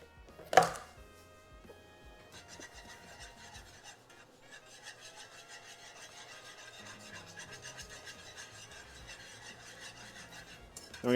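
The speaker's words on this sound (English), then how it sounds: "Give it one more whisk." A whisk scrapes steadily around a pan of orange chicken sauce with sesame oil, a continuous rasping swirl heard up close after a sharp knock at the start, with no talking.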